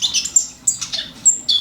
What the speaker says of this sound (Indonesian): burung juga perlu, pasti langsung berkicau lah kalau subuh itu